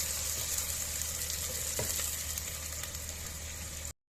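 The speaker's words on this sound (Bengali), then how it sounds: "এটাকে এবারে লাল লাল করে ভাজতে হবে" Onions frying in oil for Hyderabadi tahari: a dense, steady sizzle close by, with one faint knock partway through, ending in sudden silence.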